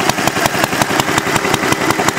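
A homemade water-cooled Briggs engine runs steadily, its loud, close exhaust putting out an even, rapid pulsing beat with no voices over it.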